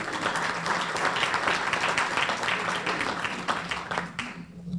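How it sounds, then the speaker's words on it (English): A debate audience gives a round of applause for a speaker, with many hands clapping loudly and steadily close by before tapering off quickly near the end. "Please give her another round of applause."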